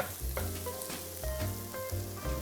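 Dried thyme leaves and curry powder fry in a pan for a fish curry, a steady close sizzle with soft stirring scrapes and no talking.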